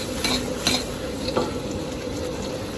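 A thick sweet sauce with sesame seeds is stirred in a pan, giving a few soft scraping strokes over a steady low sizzle, close and fairly quiet with no talk.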